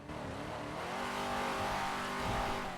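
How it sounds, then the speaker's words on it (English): In the GTA NoPixel game, a car stuck in first gear screams at high revs, a loud, steady, strained engine whine that holds and rises slightly without any gear change. "No, it's not a loud car. It's just stuck in first gear."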